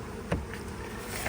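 Steady insect buzzing from a mass of honeybees at a hive fitted with a beetle trap, continuous and fairly close, with one brief louder blip near the start.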